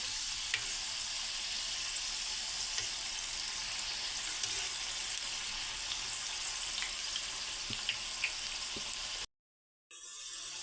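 Layered champakali pastries deep-fry in oil on a low flame, a continuous even bubbling sizzle with faint crackles, cut off briefly by a short silence before resuming.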